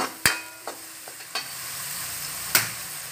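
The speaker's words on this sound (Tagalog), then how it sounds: "Habang niluluto ang sibuyas dahon" Spring onions cook in a pan with a soft, continuous sizzle, punctuated by a few sharp clacks of a utensil against the cookware.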